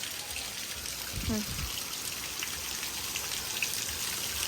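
Steady rain falls with a continuous hiss and patter, and a voice briefly speaks partway through.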